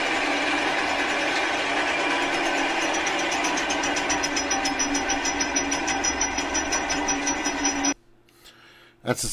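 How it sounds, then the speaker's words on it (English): Rapid, steady mechanical clacking of a roller coaster chain lift rattles on for several seconds, loud and rhythmic, then cuts out abruptly near the end. "That's the sound of a roller coaster"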